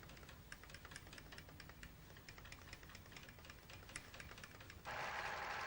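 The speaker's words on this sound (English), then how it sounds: "I think you can see the stepper motor moving the needle in this machine." An old sewing machine whose needle is driven by a stepper motor runs with fast, even mechanical ticking, quiet and steady, before a sudden broadband hiss takes over near the end.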